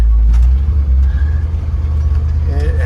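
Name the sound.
engine running smoothly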